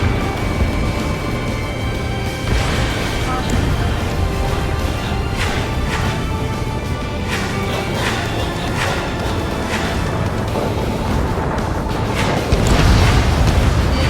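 A destroyed anti-aircraft gun in the Ace Combat 7 flight game erupts in loud, continuous rumbling blasts, a string of booms rolling over engine roar and swelling louder near the end.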